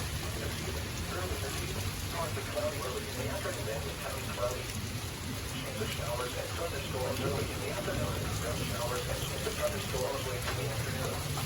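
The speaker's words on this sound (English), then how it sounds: "This is a nice storm." Heavy rain from a severe thunderstorm with lightning nearby pours down as a steady, dense hiss for the whole stretch, loud and unbroken, with faint low rumbling underneath.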